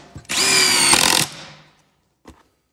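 A power drill drives a screw into wood in the garage, one loud, close whirring burst of about a second that winds down, then a brief knock of handling.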